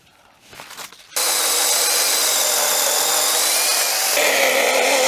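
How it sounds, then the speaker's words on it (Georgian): An electric saw bites into wood while a village yard in Artana, Georgia is being cleared, starting abruptly after a quiet moment and then running as a loud, steady, high-pitched whine with no break. "ელექტრო ხერხი მოიტანეს"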